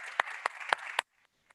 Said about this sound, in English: And with that said, an applause for Helena.